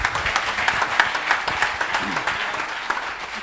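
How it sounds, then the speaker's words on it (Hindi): An audience of students selected for railway jobs applauds to welcome a speaker, loud brisk clapping with sharp individual claps standing out in an uneven, close rhythm. "जोरदार ताली बजाओ भाई इधर"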